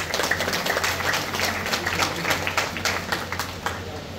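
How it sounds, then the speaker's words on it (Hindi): Audience applause at a Shrimad Bhagavat Katha gathering in a Shiv temple in Kathua, steady crowd clapping filling the whole stretch with a low hum underneath and no talk. "तालियों के साथ स्वागत करें।"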